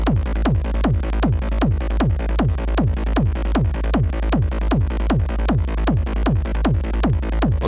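A hard techno bass layer pumping together with a kick drum, a steady, fast four-on-the-floor thump of about three hits per second, loud, dense and continuous throughout.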